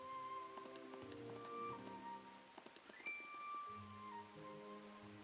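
Soft rain falls steadily in the cozy video game Tales of the Shire, a gentle patter under game music with tonal melodies throughout.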